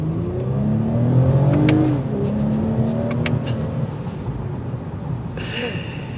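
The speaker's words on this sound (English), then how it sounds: "Catback exhaust makes it worth its while." A 2023 Toyota Camry TRD with a catback exhaust drones through a rev, its engine note rising and then easing off steadily from inside the cabin, with a few faint clicks and a brief breath.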